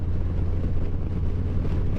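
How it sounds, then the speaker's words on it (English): Continuous low, rumbling crosswind buffeting a motorcycle helmet microphone while riding a Harley-Davidson Low Rider ST, a steady roaring noise with no pauses or voices. "kind of a nice crosswind going"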